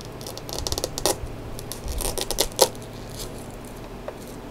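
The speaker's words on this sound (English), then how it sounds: "So let's just do another cut. We'll cut it down the middle again." Cuts slicing down the middle of a praying mantis egg case, a run of small dry crisp snips and scratchy crunches with a few sharper clicks, close up and fairly quiet, trailing off into near silence.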